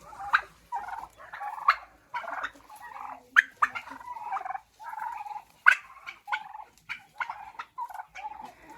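Free-range turkeys gobble over and over in quick rattling bursts, several birds calling nearby against an otherwise quiet background.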